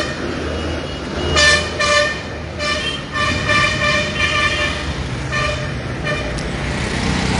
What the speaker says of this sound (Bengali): এই মুহূর্তে কিন্তু সেই রাস্তাটি অর্থাৎ সচিবালয়ের সামনের রাস্তা সড়কটি কিন্তু ছেড়ে দেওয়া হয়েছে এবং যান চলাচল করছে